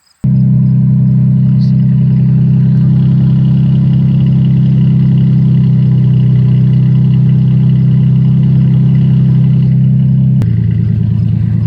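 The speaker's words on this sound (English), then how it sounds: "So we're gonna let you hear what the exhaust sounds like." Exhaust of a 1998 Ford F-150 work truck with a V6 engine idling, a loud steady low rumble that holds evenly for about ten seconds before dropping slightly in level, with no talking.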